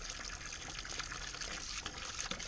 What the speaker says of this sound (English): it is pumping water from this container of water Mm-hmm. It's getting up sucked out. and in and through this coil.